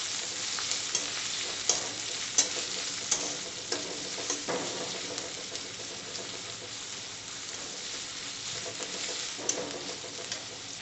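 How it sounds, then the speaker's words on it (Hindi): Chopped onion and green chilli sauté in a pan with a constant crackling sizzle, punctuated by frequent sharp scrapes and taps of a spatula stirring throughout. "प्याज को अच्छे से पहले सौते करना है"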